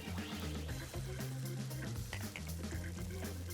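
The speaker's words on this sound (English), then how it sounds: "Julienne some carrots, and you're going to get some sizzle right away." Julienned carrots, red bell pepper and celery hiss and crackle in hot oil in a preheated stock pot. The sizzle is steady and close, with no talk over it.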